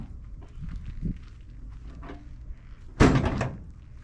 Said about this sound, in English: we'll go ahead and close our doors up